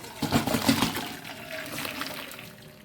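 Boiled water drains off cooked cauliflower, pouring and splashing for a few seconds, a loud gush at first that eases into a steadier, softer trickle.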